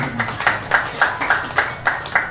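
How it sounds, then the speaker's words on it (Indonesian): At a PMI 75th anniversary gathering, an audience claps in unison for the host. Evenly spaced, synchronized claps repeat at a brisk, steady beat. "Kemudian tepuk tangan Mas Fatur."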